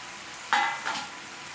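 Cucumber chicken curry with tomato sizzles in a pan, two short bursts of frying and stirring against a quiet background.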